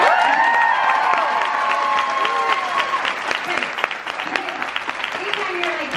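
An audience at an author's book party breaks into loud, sustained applause mixed with cheers and whoops, continuing for several seconds and easing slightly toward the end.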